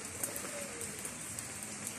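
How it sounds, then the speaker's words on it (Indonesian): Steady rain falling outdoors in a vegetable garden, a dense even patter of drops hissing on surfaces throughout, with no voices. "Ini lagi hujan."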